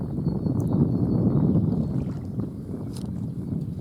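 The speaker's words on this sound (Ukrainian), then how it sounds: "Через мікрофон чути, який вітерець задуває." Low, buffeting rumble of wind blowing straight into the microphone beside a pond or lake during cold weather, gusting heavier then easing, with faint splashes over it.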